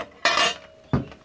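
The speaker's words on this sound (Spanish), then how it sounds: "Aquí tengo estos platos grandes también." Large plates being handled and stacked in a kitchen, two distinct clattering ceramic clinks with a brief ring between them, close and alone.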